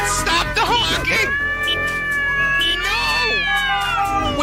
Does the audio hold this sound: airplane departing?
no